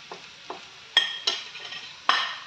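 A spoon stirs salt, turmeric, cumin and chili powder into fried food in a pan, giving several soft scraping strokes over a low sizzle, each stroke a brief rasp that fades.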